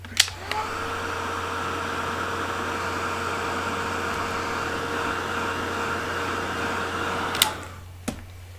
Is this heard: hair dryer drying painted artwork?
yes